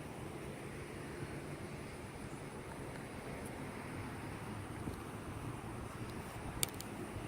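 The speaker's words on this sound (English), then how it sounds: "Hopefully the wind, there's a little bit of breeze." A light breeze blows outdoors in Wilson, North Carolina, as a steady, faint rumbling hiss of wind across the microphone with a few small bumps, and no talking.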